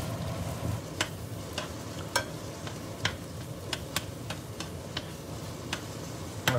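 Onions cook in sauce in a stewpot, giving a steady soft sizzle and simmer with regular light ticks and taps, close and continuous, with no voices.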